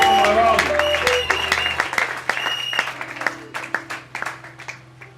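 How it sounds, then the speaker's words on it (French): Applause at a church gathering acclaiming the Lord, a crowd's loud clapping mixed with cheers and voices that thins out into scattered individual claps and fades by the end. "Acclamons bien notre Seigneur."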